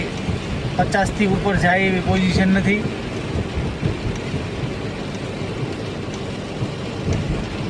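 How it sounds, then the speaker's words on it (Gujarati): Heavy rain drums on a car driving along the Pipli to Dholera highway in a downpour, a dense continuous wash of noise while someone speaks over it for the first few seconds. "વરસાદ ખૂબ જ છે"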